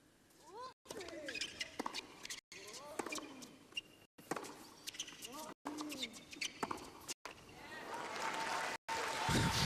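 Birds chirp with short calls over the background of a tennis match between Djokovic and Murray, mixed with crowd murmur, ball patter and a commentator talking, the whole scene faint and distant.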